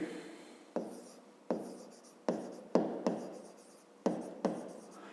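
Pen or pencil writing out a fifth-grade rectangle perimeter problem by hand, in seven separate bursts of scratchy strokes, each starting sharply and trailing off, close and clear with no talking.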